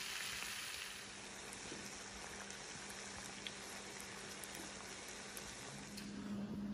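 Morel mushrooms frying in a pan, a steady quiet sizzle and crackle of hot oil that goes on without a break and with no voices.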